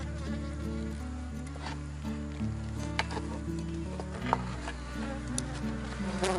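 Honeybees at a smoked hive being opened, a dense, agitated colony that tends to be aggressive, humming in a loud continuous drone with sharp high buzzes of individual bees darting close.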